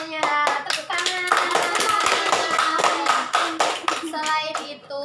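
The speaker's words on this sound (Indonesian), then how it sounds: "Tepuk tangan." Schoolchildren in a classroom break into rhythmic group hand clapping, a dense burst of claps with a few sharper accented beats, with children's voices chattering faintly through it.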